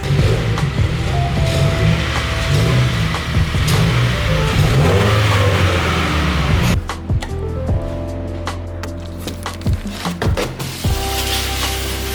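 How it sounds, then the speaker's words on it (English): A Subaru car engine runs steadily and revs low, rumbling up close, then shifts and settles with some clunks and knocks as the vehicle rolls into a garage. "let's pull in this car into the garage"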